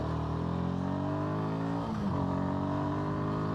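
A motorcycle engine revs hard and steady accelerating uphill, its pitch climbing then briefly dipping before rising again, loud and close throughout with no talking.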